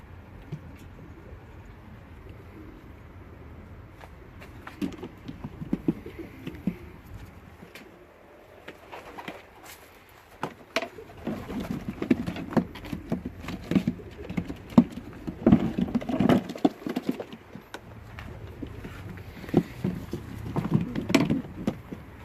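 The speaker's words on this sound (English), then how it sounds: "Basket full of fantastic pigeon." Racing pigeons in a loft before shipping coo and rustle under faint patter and fluttering, growing louder and busier in the second half with no talk.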